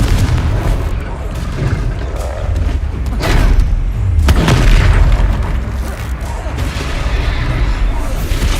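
In a Harry Potter video game, the Confringo blast spell sets off heavy booming explosions and rumbling impacts amid busy combat, with voices nearby.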